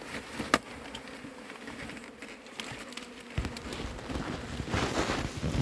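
A swarm of honeybees being collected at Varennes-sur-Seine gives off a soft, continuous buzzing hum, with scattered rustles and taps and the drone building slightly toward the end.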